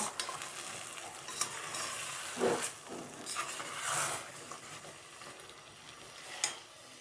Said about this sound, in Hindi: एक दफ़ा बस ये मैं आखिरी दफ़ा हिला रही हूँ।